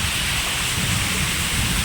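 Heavy rain pouring steadily over a village, a dense continuous roar filling the whole moment with no voices or other sounds.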